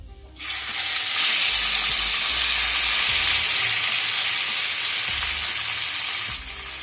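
Fish sizzling steadily in hot oil for a Bengali bhola fish curry, a loud continuous frying hiss that swells in after a brief quiet start and holds until near the end, with no voices.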